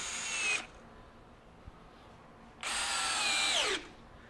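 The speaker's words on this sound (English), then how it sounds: "Gonna go to our T25 and we'll go to a 3 inch construction fastener here" A DeWalt DCD794 Atomic 20V brushless stubby drill driver with a T25 bit whines in two bursts, a short spin then a longer drive of a 3 inch construction screw into wood, loud and close.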